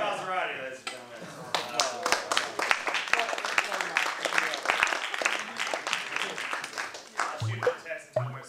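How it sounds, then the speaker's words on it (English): Studio audience applause at the close of an interview with a mixing engineer, a burst of clapping mixed with voices talking over it, moderately loud and uneven. "give a round of applause"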